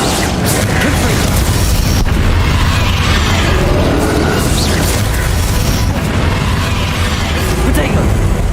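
Confringo fire spell blasts in the video game Hogwarts Legacy, a dense run of booming explosions and crashing impacts layered over continuous roaring game noise, with a voice faintly mixed in.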